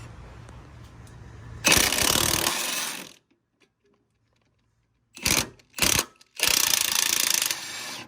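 A power ratchet spinning off two 14 mm bolts from a coilover on a 1992–2000 Honda Civic, heard as loud, close mechanical rattling bursts, one long, then a few short pulses and a final sustained run, separated by silence.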